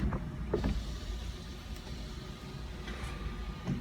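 The sunroof and sunshade of a BMW 320i G20 close electrically inside the cabin, a quiet continuous motor whir with a few soft clicks at the start and near the end.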